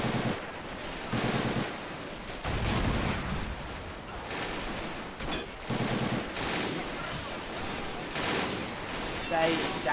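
Heavy battlefield gunfire in the D-Day mission of the video game Normandy 44, with dense machine-gun bursts and rifle shots going on nearly nonstop over a roar of combat noise, near and loud.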